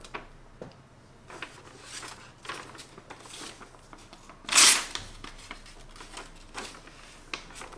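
A sharp knife slices through a sheet of paper in one quick, crisp swish that stands out above quiet rustling and handling noise.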